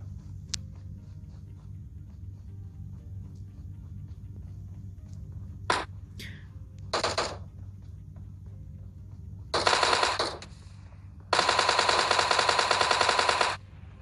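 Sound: Tommy gun firing in the video game PUBG

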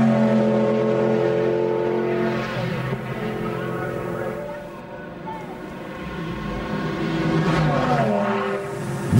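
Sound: racing cars passing at Nürburgring Pflanzgarten section

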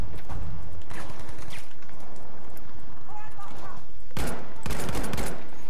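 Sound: gunfire in Battlefield 5 video game

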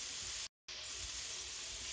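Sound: pumpkin frying in a pan

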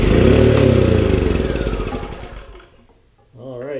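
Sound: Briggs & Stratton generator engine running on ether

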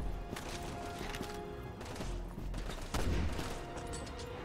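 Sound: gunshots at a monster in the video game Resident Evil 6

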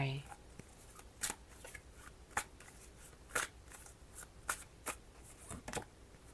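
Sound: tarot cards being shuffled

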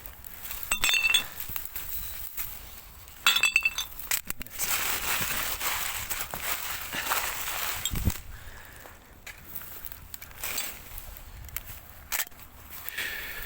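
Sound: glass pieces clinking as they are collected

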